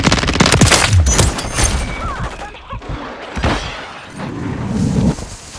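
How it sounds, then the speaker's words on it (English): Rapid automatic gunfire from Call of Duty: Modern Warfare III crackles in dense, loud bursts with heavy booming low end, easing briefly mid-clip before surging again. "Taking effective fire."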